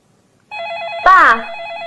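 A telephone rings with a steady electronic warble that starts abruptly after a short silence. The ring is loud and close, and a voice briefly speaks over it.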